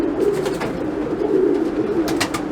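A tippler pigeon coos close up in a low, throaty rolling murmur that swells and falls, with faint rustling and background noise around it.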